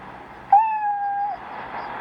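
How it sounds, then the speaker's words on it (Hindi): A single clear cat meow, rising then holding for under a second, close and distinct against a quiet background. "तो वो म्याऊं म्याऊं करने लगी"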